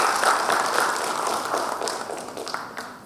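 A conference audience applauds after a talk on medical technology innovation, a dense, steady wash of clapping from many hands that tapers slightly toward the end.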